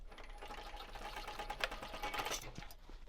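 A sewing machine runs a quarter-inch seam through faux leather at a 3.5 stitch length, making a fast, even mechanical rattle that stays close and continuous with no talk.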